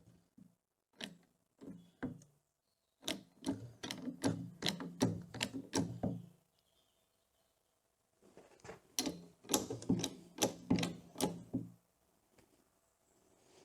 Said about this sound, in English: So if I keep pumping, starting to move the needle.